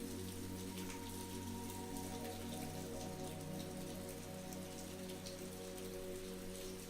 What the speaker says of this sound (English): As the rain pitter-pattered against the cabin's windows, Emily found herself